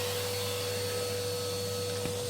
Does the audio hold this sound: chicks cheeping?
no